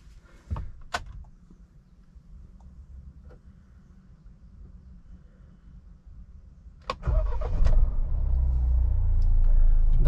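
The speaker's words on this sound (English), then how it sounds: "That's the engine sound." A 2021 Mahindra Thar's engine cranks and catches about seven seconds in, then settles into a loud, steady idle heard from inside the cabin, after earlier clicks and door or switch sounds.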